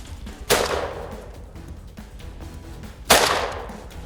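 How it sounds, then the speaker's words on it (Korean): Two sharp gunshots a few seconds apart during a wild boar hunt in the mountains, each cracking loudly then trailing off in a long echoing decay across open terrain. "산속에 울려 퍼지는 총소리"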